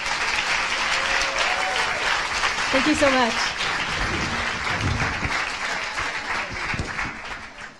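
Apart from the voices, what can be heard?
applause for panelists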